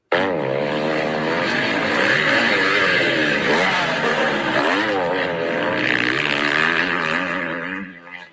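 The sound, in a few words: four-stroke motocross bikes racing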